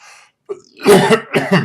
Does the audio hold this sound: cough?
yes